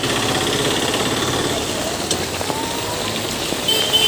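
Heavy rain pours in a dense, steady hiss on a rainy day, loud and close, with faint background noises scattered through it.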